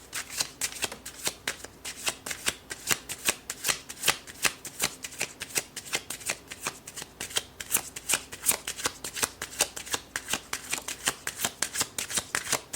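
A Romance Angels oracle card deck is shuffled by hand in a close, crisp run of riffling flutters repeating rhythmically for several seconds, with no voice over it.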